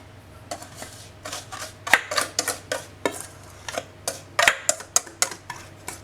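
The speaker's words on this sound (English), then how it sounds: "I'm just gonna put all ingredients in some bigger thingy." Ingredients for a carrot cake tipped and scraped together into a larger bowl, with a run of irregular clinks, taps and knocks of utensil against bowl, fairly close and fairly even, with no voices.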